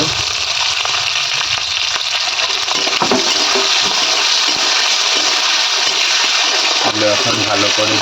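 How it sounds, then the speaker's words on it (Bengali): Chopped onions fry in a pan with a steady, bright sizzle that runs throughout, close and loud, while a person speaks over it. "ভেজে নিবে লাল লাল করে অল্প ভেজে নেবে"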